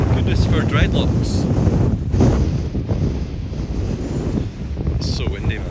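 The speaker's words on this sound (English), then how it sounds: "It's so windy, man." Strong wind buffets the microphone in constant loud gusts, with a roaring low rumble and occasional voices faintly mixed beneath.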